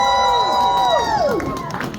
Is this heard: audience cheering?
yes